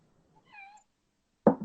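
A cat gives one short, rising meow at close range in an otherwise quiet room, followed moments later by a brief dull thump.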